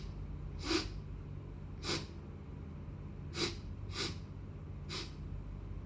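A performer in an acting-class emotion exercise imitates sniffing with a runny nose: five short, sharp breathy sniffs spaced about a second apart, close and fairly loud over a quiet room hum.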